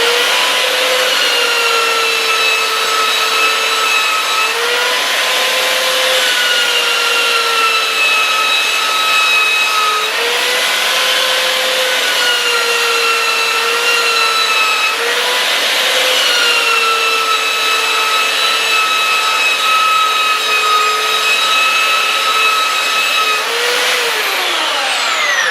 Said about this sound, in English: Now I'm going on with my 80 grit and smooth it out.